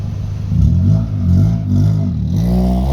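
A small Honda car drives along, its engine whirring and revving with rising and falling pitch, loud and close throughout, with a steady rumble and clatter underneath.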